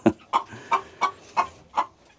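Hens cluck inside a chicken coop, six evenly spaced, fairly close clucks in a steady rhythm against a quiet background.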